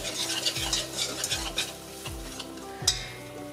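A whisk works flour into melted vegan butter in a saucepan, scraping in quick rhythmic strokes against the pan over a continuous soft sizzle, close and clear, with no talking.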